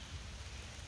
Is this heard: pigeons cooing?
no